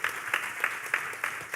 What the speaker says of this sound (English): I think we should give him a round of applause